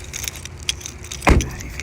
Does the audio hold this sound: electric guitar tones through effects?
no